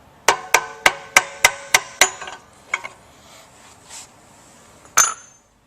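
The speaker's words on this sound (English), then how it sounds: "you might have to give this one a little tap" Pump coupling halves being tapped apart during removal from a booster pump motor: seven sharp, evenly spaced metallic hammer taps, then a few lighter knocks and one final louder strike, close and clear.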